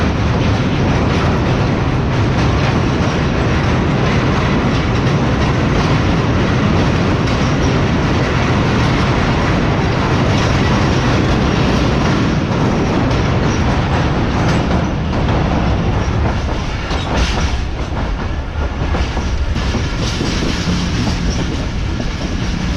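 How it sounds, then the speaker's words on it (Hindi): A passenger train rolls onto a bridge over the Indus river near Hyderabad, producing a loud, continuous rumble with rhythmic clickety-clack of wheels on rails and some faint squealing. "तो ये दरिया सिंध पर बने हुए मैदान ब्रिज में एंटर हो रही है ट्रेन हमारी।"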